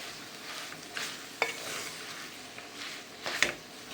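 Egg chop mixture being stirred as boiled potatoes are worked in, with soft scraping and a few sharper utensil clicks near 1.4 and 3.4 seconds over a faint background hiss.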